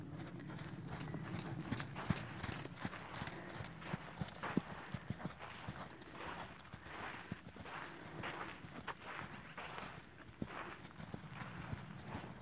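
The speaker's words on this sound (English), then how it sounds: "pick up canter left lead on a circle down here" A horse canters on a circle on the left lead, its hooves striking the ground in a steady, rhythmic three-beat pattern that sounds fairly quiet and somewhat distant throughout.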